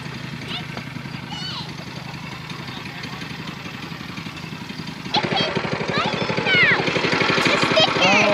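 A dual-motor yard vehicle, a mower-style machine with chains on the rear wheels, runs with a steady low engine chug that grows louder as it revs, while people talk over it nearby.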